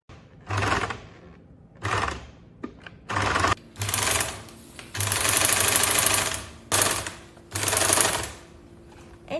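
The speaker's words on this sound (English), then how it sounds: "I'm stitching the new piece into the seam." A sewing machine stitches a new fabric piece into a garment seam, running in about seven rapid whirring bursts of varying length separated by short pauses, loud and close with no voices.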